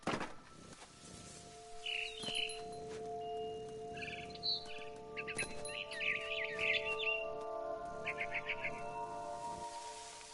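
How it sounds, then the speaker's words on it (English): A barn swallow chirps in short bursty clusters outside a window near its nest, fairly faint, over a steady tonal hum. "Then I heard chirping outside my window. It was a barn swallow going back to her nest."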